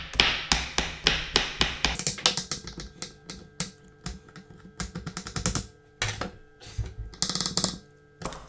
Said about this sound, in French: Là, tu vas couper finement.